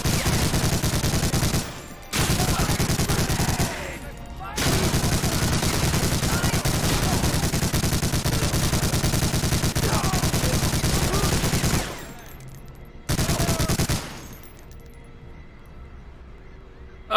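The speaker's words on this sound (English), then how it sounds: "That machine gun!" An MG42 machine gun fired in Medal of Honor: Allied Assault, rattling in long, loud, close bursts broken by a few short pauses, the last burst cutting off into quieter game ambience.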